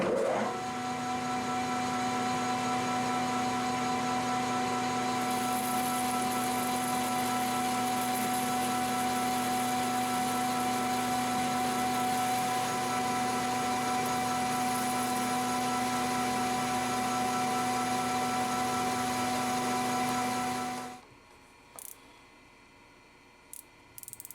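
An ACRA Heavy 14 lathe takes 150-thousandths cutting passes with a steady, loud mechanical whine and hum that runs continuously for about twenty seconds, then cuts off abruptly, leaving near quiet.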